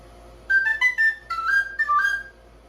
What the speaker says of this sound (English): even though the penny whistle is such a small and goofy looking instrument, you can play little fun things